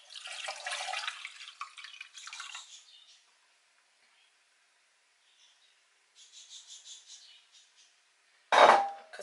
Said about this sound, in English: I'm going to now pour the liquid back into the pot.